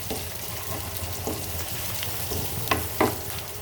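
Onion and garlic fry in a pan while lauki greens are being cooked, a faint steady sizzle with a few sharper crackles and spatters near the end.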